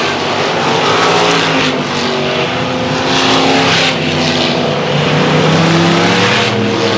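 Race cars battle for position on a short dirt track, engines roaring loud and continuous with rising and falling revs as several machines run close together, no voices over the din.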